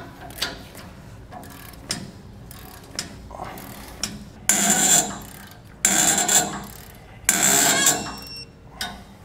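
Wrench ratcheting on the U-bolt nuts of a trailer axle with idler hubs, several bursts of loud, close metallic clicking separated by quieter pauses with faint handling noise.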